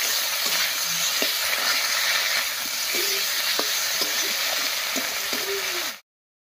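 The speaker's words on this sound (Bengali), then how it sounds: "আলুটা বেশ ভাজা ভাজা মতো হয়ে গেছে, এবারে বাটা সব মশলাগুলো দেবো" Potatoes frying in a pan with ginger, cumin and dried chilli pastes for a cauliflower ghonto, a loud continuous sizzle with scraping stirs and clinks of the spatula, ending abruptly.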